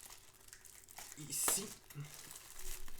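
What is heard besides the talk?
peeling off protective paper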